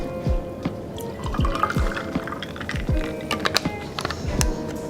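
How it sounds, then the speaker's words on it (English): Sparkling water poured over ice to top up a limoncello cocktail, with popping fizz, drips and small clinks repeating every half second or so, close and clear, no speech. "And to top it up, we'll use sparkling water."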